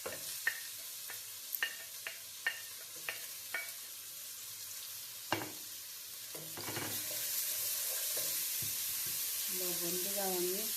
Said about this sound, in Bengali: আমি পেঁয়াজটা দিলাম